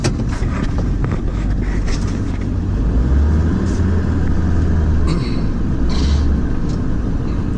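A car drives in along a slippery skid road, its engine and tyre rumble loud, close and continuous throughout with no pauses.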